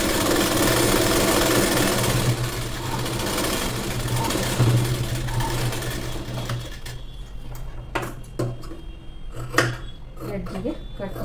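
A sewing machine runs a continuous rattling stitch along the fabric edge of a plain blouse for about six seconds, then falls to quieter clicks and handling knocks. A voice speaks over part of it.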